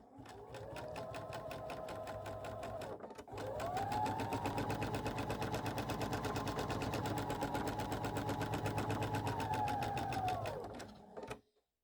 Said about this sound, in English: Now what I can do is go ahead and finish sewing my block